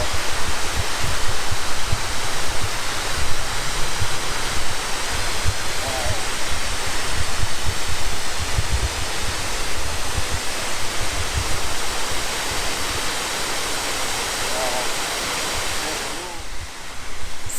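A loud, steady roar of rushing water fills the whole stretch, broad and constant like a nearby waterfall.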